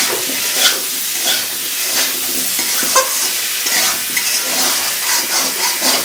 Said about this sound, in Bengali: আলুটা আমি একটু সিদ্ধ করে নিয়েছি আগে এখন একটু ভেজে নিই ভালো করে